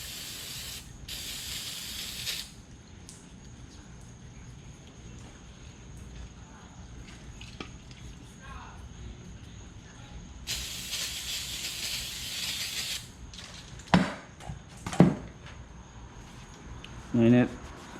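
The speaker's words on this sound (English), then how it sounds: "Spray that stuff on there, it breaks everything down, and wipe it off." Cleaner is sprayed onto Browning A5 shotgun parts in two long hissing bursts of a couple of seconds each, close and loud, with clicks and knocks of handling between them.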